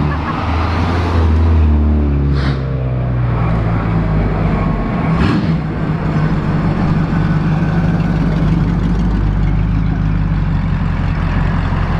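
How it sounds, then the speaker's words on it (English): A convoy of cars rolling past at a drive-by car show, loud, continuous engine rumble and idling from several vehicles close by, with a few brief louder bursts as individual cars pass. "What a convoy this is."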